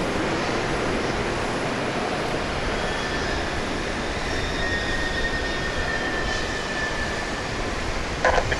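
Distant airliner landing at Dallas Love Field in misty weather, a broad steady roar and hiss of jet engines sustained throughout at moderate distance.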